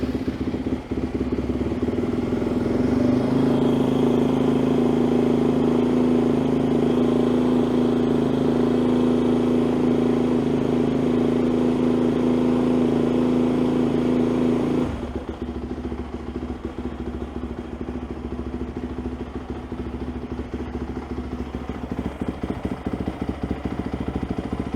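A Yamaha YZ 250FX dirt bike engine runs loud and steady with a strong low drone, then drops to a rougher, quieter idle for the last stretch after a sudden change midway.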